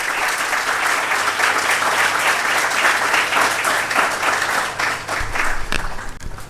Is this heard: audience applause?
yes